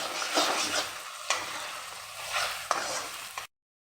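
Pounded garlic paste fries in a pan for chicken curry, a close hissing sizzle with a few sharp scrapes and knocks as it is stirred, then it cuts off abruptly.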